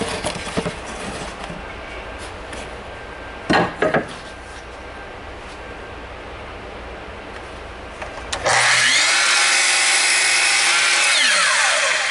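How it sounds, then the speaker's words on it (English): Wood lathe spinning up on walnut, maple and purpleheart blanks for ferro rod handles, a few knocks and clatters at first, then a loud steady motor whine and cutting hiss that starts abruptly and holds close by. "So we'll be turning that on the lathe, making some handles."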